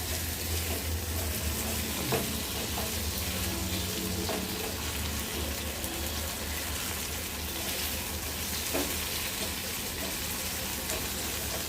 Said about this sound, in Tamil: இதில் கொஞ்சம் எண்ணெய் விட்டு இதை நம்ம வறுத்துக்கலாம்